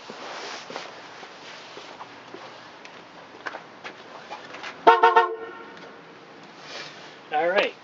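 The newly replaced horn on a Chevrolet Astro / GMC Safari van honks twice, each blast short and loud, over a quiet background with some faint movement and talk.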